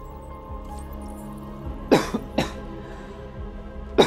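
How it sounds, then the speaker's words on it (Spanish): A few sharp, close coughs break out over quiet background game music from Detroit: Become Human, a pair of bursts in the middle and another at the end. "Joder, la tos."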